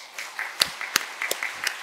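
A church congregation at Sunday worship applauds in congratulation as flowers are presented, a few scattered, sharp individual claps spaced out over a brief moment.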